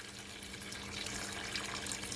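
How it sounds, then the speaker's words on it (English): Hot water pours from a kettle into a cooking pot, a soft, continuous splashing stream heard alone at low level. "I'm adding hot water from my kettle."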